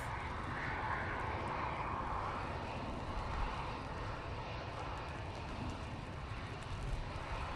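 An Aer Lingus airliner taking off on the full runway length at a gusty Manchester Airport, its jet engines giving a steady, broad roar that holds at a fairly even loudness throughout, with no talk over it.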